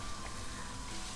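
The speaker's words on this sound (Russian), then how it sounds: "Опускаем наши овощи на нашу разогретую сковороду." Vegetables sizzle in about 50 grams of heated oil in a hot frying pan for a nettle, egg and sorrel soup, a soft, steady crackling hiss with no talk.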